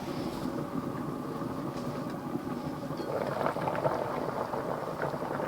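Asparagus soup simmering in a covered pot, giving a steady, moderately loud bubbling hiss that continues without pause and grows slightly busier toward the end.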